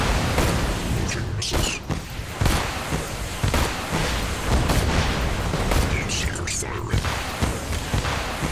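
Gunfire at a boss in Borderlands 2, with repeated booming shots and impacts over a dense battle din and someone talking over much of it.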